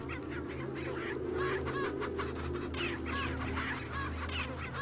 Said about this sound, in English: Well, these chickens are freaking out.